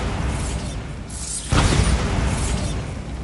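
A Bombarda blasting spell goes off in the video game Hogwarts Legacy, a sudden loud burst midway that crashes into a rumbling, crumbling roar after a short mechanical rattle, with no talking.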